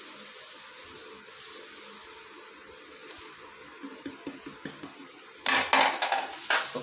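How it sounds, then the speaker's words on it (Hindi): A spoon mixing spices into raw mango pickle: soft scraping and rubbing at first, then a series of rhythmic clinks against the container, followed by a louder burst of gritty stirring close by. "तो अभी एक चम्मच के साथ मैं इसे अच्छी तरह मिक्स करूँगा।"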